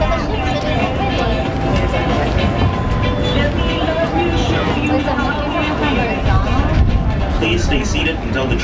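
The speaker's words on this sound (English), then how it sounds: "Please stay seated until the tram has come to a full and complete stop." A tram rumbles along steadily on Castaway Cay, its low mechanical drone filling the space while passengers chatter around it and a voice speaks over the noise.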